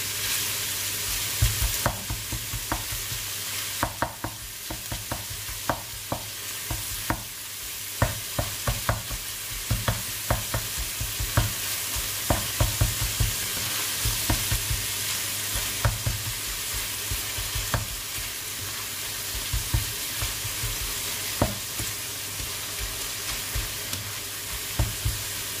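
Meat for Indonesian fried rice frying in its own rendered fat, a constant loud sizzle punctuated by many rhythmic spatula scrapes and knocks against the pan throughout.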